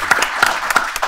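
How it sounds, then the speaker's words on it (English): A studio audience gives its guests a short burst of applause, with a few sharp claps in quick, uneven rhythm and little else heard. "So give our guests a round of applause for being here."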